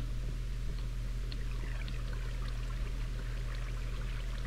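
A single water source flowing in Minecraft gives a steady, even trickling wash that runs unbroken from start to end, close and moderately loud, with no talk over it.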